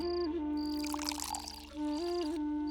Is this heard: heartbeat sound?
no